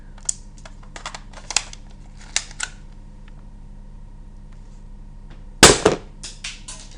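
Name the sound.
Lego toy gun firing bullets at a target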